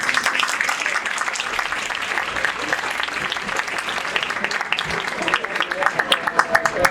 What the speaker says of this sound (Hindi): तो इसी के साथ तालियां बजा दो।